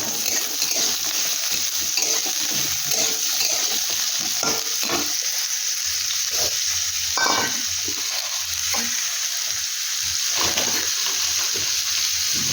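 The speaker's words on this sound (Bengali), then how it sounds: "তাহলে পেঁয়াজটা আলুটা একবারে ভালো ভাজা হয়ে যাবে" Onion and small-diced potato frying together in a pan: a continuous close sizzle with intermittent stirring knocks and scrapes, no voices.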